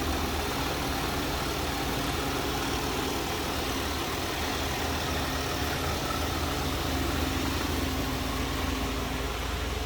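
A 1983 Oldsmobile Delta 88 Royale sedan engine idles smoothly and steadily, a constant low rumble close by with no voices.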